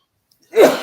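A single sharp sneeze bursts out after half a second of near silence, loud and close, then trails off into a breathy release.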